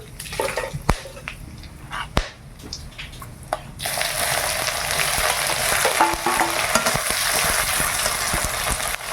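Cardamom, cloves, cinnamon, bay leaf and dried chilli drop into hot oil with caramelising sugar, setting off a loud, steady sizzle that swells after a few scattered clinks and taps and holds to the end, with no talking.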